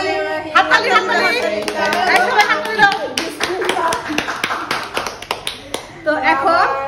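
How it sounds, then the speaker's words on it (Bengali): Several people clap at an iftar gathering in a home in Kuala Lumpur, a burst of sharp, uneven hand claps mixed with lively chatter and talking voices. "হাততালি হাততালি হাততালি হাততালি হাততালি"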